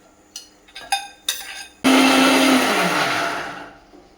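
A kitchen blender grinds fried onion into a paste, roaring in loudly at full speed after a few short knocks and clicks, then winding down toward the end.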